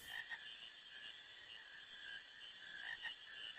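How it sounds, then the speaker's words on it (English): Frogs croaking in the Final Fantasy IX video game, a faint steady chorus of buzzing trills in a quiet outdoor setting, with no voices. "I can catch a frog"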